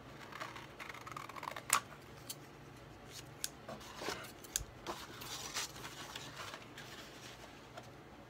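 Scissors snipping through a tri-fold lap book journal cover, a series of quiet, irregular crisp cuts and paper rustles close by, with no talking.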